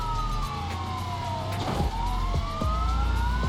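Police car siren wailing in rising and falling sweeps, loud and continuous, from the driving video game BeamNG, with engine rumble underneath.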